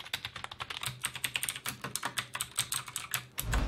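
Someone types on a keyboard, a quick run of crisp, close keystroke clicks in an uneven rhythm, each tap distinct and fairly quiet, ending with a brief low thump.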